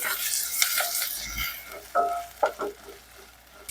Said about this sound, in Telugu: కొంచెం కలర్ వచ్చేంత వరకు ఈ పచ్చివాసన పోయేంత వరకు వేయించుకోవాలి